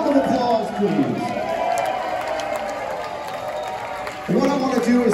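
A large crowd at a metal concert at The Masquerade in Atlanta roars with sustained applause and cheering for the sound engineer's birthday, a dense, loud wash of clapping and shouts that swells again near the end.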